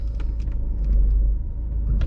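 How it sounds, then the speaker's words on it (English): A Skoda car idles and rolls forward to stop nose to nose with another car, a close low engine rumble that holds steady, with a few light clicks and knocks on top. "I've bought this car from Allison, and I'm going to pull the Skoda up, get it nose to nose"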